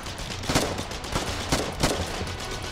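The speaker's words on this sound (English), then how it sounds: "Ah, shotgun!" Shotgun gunfire in the war game Foxhole, several loud booming blasts spaced about a second apart over a continuous battlefield rumble.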